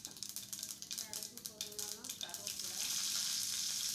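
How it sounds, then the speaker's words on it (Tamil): Curry leaves dropped into hot oil with spluttering mustard seeds for a carrot poriyal, giving crackling pops that swell into a loud, steady sizzle near the end. "கடுகு பொரிஞ்சோன்னே கருவேப்பிலை போடுறேன்."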